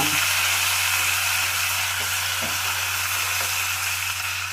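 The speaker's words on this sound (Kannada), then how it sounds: "ಈಗ ಮೆಣಸಿನ್ಕಾಯಿ ಪೇಸ್ಟ್ ಹಾಕ್ಕೊತೀನಿ ಇದನ್ನು ಇದರಲ್ಲೇ ರೋಸ್ಟ್ ಇರ್ತೀನಿ" Green chili paste roasting in hot garlic-mustard tempering oil, a steady, dense sizzle and hiss that runs close and even throughout, with faint stirring clicks underneath.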